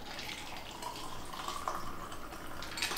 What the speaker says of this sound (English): Take the top off and pour it in.